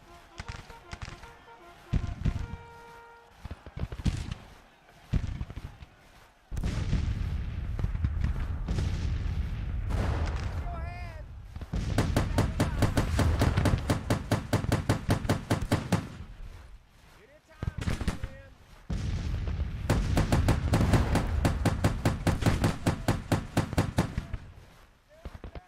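Captured cannons firing in Grand Tactician: The Civil War, heard as bursts of booming and crackling artillery and musket fire that come in long dense volleys between quieter gaps, with a voice talking at points.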